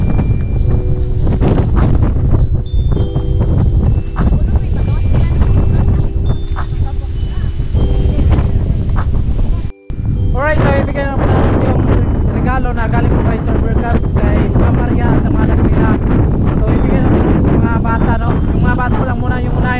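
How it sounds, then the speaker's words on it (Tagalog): Loud, constant wind buffeting the microphone outdoors at a Christmas party with parlor games, a heavy rumbling roar that continues throughout under people talking. "malakas lang yung hangin."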